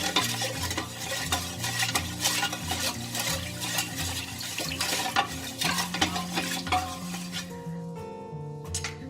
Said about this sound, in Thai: เกลือประมาณนะ ครึ่งช้อนชาค่ะ ไม่เยอะเนาะ ค่ะแล้วก็คนเลยเนาะ